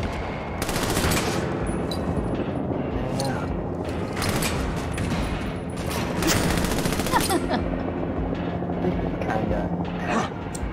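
Continuous blind-fire gunfire in the co-op shooter game Army of Two: The Devil's Cartel, with rapid bursts and volleys of shots, mechanical clatter and booms forming a loud, unbroken barrage; people talk throughout.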